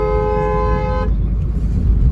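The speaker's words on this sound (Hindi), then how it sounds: "सो गाइज अंदर का हॉर्न भाई इसका कुछ ऐसा है एंड डिट्टो क्रेटा वाली साउंड आ रही है अंदर से" A Baleno fitted with a Creta horn blares a single steady, bright tone for about a second, heard from inside the car over a low engine rumble.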